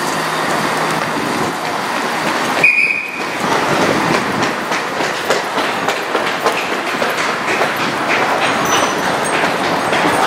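A moving train rolls along the railway with steady rumbling wheel noise and rattling carriages, loud and continuous, broken briefly by a short high squeal partway through.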